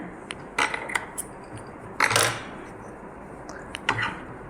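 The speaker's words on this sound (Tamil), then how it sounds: "இந்த நூலெல்லாம் கட் பண்ணிவிட்டு காமிக்கிறேன்" Scissors snip loose threads on an aari embroidered blouse, a few sharp metallic clicks in small clusters, close and isolated against a quiet room.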